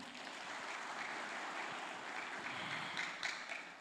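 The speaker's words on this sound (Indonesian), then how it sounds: "boleh berikan tepuk tangannya" Sustained audience applause welcoming guests onto a talk show stage, a steady dense wash of clapping that runs throughout, with a few sharper claps near the end and no talking.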